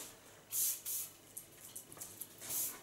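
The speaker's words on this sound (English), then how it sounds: "But brush out hairspray of Lanza." Lanza brush-out hairspray is sprayed from a can in short, close hissing bursts, a few separate puffs with soft rustling between them and a final longer spray.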